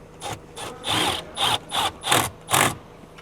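Bolts on an S&B fuel tank fitted to a 2023-or-newer Ford F350 are driven tight with a power tool, giving about seven short whirring bursts in an uneven rhythm with brief pauses between them, close and fairly loud.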